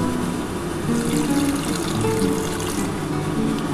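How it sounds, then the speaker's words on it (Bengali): A little water poured into curry masala that has been fried until the oil separates, for a catla kalia fish curry; a steady close pour and sizzle running evenly through the whole moment with no talking. "এবার আমি অল্প একটু জল দিয়ে দেবো"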